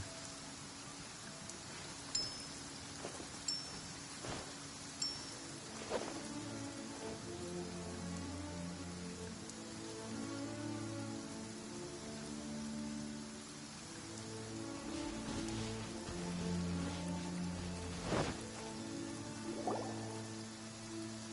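Steady rain falls in the open world of Genshin Impact, a soft continuous patter lasting the whole stretch, with occasional clicks and faint game tones on top and no talking.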